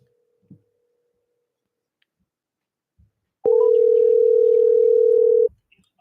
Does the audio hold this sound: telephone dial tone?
yes